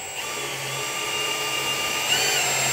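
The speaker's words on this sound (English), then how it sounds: "So I'm just using a drill to spin the pump." An electric drill spins the engine oil pump of a new LS3 engine being fitted to a Miata, giving a steady, continuous whirring drone at close range that holds an even pitch throughout.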